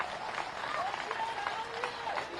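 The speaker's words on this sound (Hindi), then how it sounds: "अभी इधर से कम तालियां बजी हैं, इधर से थोड़ी कम तालियां बजी हैं" A crowd at a political rally applauding, a spread of clapping heard from a distance beneath a voice speaking over it, the clapping fairly soft and steady.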